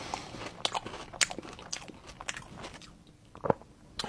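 Someone chewing a cake of cream and biscuit, with several crisp bites and crunches in an uneven rhythm, close to the ear, and quieter soft mastication in between; no talking.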